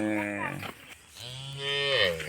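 A cow moos loudly and close by during the Assamese Goru Bihu festival, when cattle are brought to be bathed. Two long, drawn-out calls are heard with a short pause between them, and no voices.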